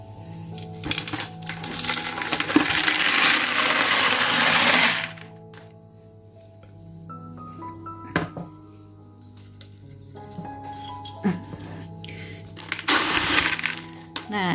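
Used hydroton LECA clay pebbles pour out in a loud rattling, clattering rush for about five seconds, then go quiet before scattered clinks and another shorter burst of tumbling pebbles near the end.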